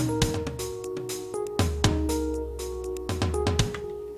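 A programmed drum pattern sequenced on an MPC X loops steadily with punchy kicks, snappy hits and ticking hi-hats, backed by a sustained synth tone, no voices.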